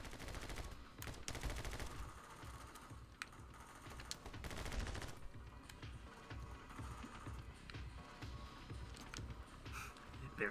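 Machine gun fire from the video game My Friend Pedro, with dense rapid bursts and scattered gunshots mixed with game effects over ten seconds, loud and continuous.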